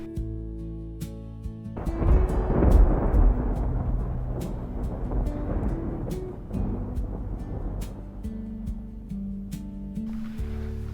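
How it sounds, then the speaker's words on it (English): Distant thunder from an approaching monsoon storm over Northern Arizona, a low rolling rumble that swells within a couple of seconds and then lingers faintly under steady road and engine noise. "I can hear the thunder in the background"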